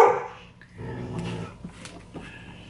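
Several dogs bark and growl in an indoor room, the sounds coming in uneven bursts at moderate loudness with no talking over them.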